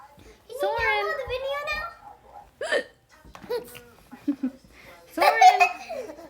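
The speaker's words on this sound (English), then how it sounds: "You think my hiccups are funny or something?" Child hiccupping at home, several sharp little hiccups scattered among a child's giggles, laughter and an adult voice, all close and fairly loud, with short quiet gaps between bursts.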